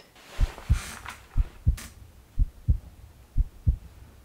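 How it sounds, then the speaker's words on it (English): Heartbeat sound effect in a music video: deep, thumping double beats repeating in a steady lub-dub rhythm, loud and close, with faint airy noise between pulses. "The heartbeat sound."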